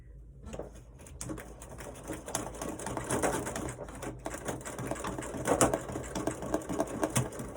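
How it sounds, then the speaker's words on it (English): A malfunctioning sewing machine stitching paper ornaments, running with an uneven mechanical clatter and rapid repetitive needle taps that build and waver, fairly close and moderately quiet. "You can hear my machine isn't quite right."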